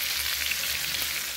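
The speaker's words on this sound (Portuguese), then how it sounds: "E aqui é o pernil de porco com osso, né? Estou fritando aqui no fogão" Bone-in pork leg frying in a pan on a home stove, a soft, continuous crackling sizzle with fine spitting pops, close and fairly quiet, with no talking.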